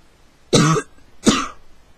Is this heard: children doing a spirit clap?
no